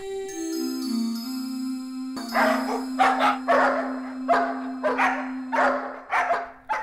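Dogs bark repeatedly in an animated children's tale about a boy and a wolf, a run of sharp barks over a sustained musical tone.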